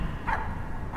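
Dog in the video game My Friendly Neighborhood gives two short barks about half a second apart, close and fairly loud.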